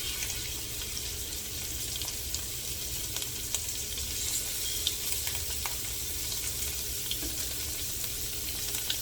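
Scallops seared in browned butter in a pan sizzle and spit steadily throughout, with a constant bright crackle, close and fairly loud, and no talking.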